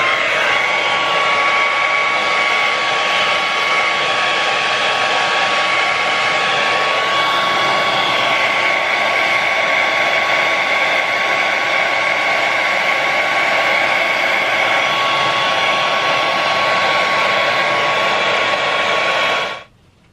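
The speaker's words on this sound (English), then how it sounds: "Then I'm going to blow dry and on hot." A hair dryer on the hot setting blows steadily and loudly on a lace frontal wig, a constant close whoosh with a faint whine that runs unbroken for about twenty seconds before cutting off.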